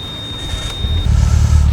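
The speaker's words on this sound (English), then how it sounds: "when you sit inside the car and just start it, you know, without even driving" A steady electronic beep gives way to a Mitsubishi Evo IX engine starting up close by, then settling into a deep, throbbing low rumble.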